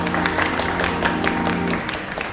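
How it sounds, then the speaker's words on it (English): Audience clapping for stage demonstrators in a comedy sketch, a dense steady wash of many hands at moderate level, with a held musical tone underneath that drops out near the end. "Why are they all clapping?"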